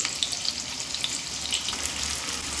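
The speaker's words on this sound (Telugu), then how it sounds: "ఒక 1 మినిట్ పాటు ఒకసారి ఇలా ఫ్రై అయ్యి తీసేసుకోవడమే" Liver pieces frying in a pan make a steady, bright sizzle with scattered crackling pops, continuous and close with no voices.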